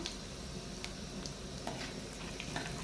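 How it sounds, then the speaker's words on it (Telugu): Cumin seeds roasting in a pan with dried red chillies, giving a steady soft sizzle with light scraping clicks as they are stirred, close and continuous. "దోరగా వేగేదాకా కలుపుకుందాం"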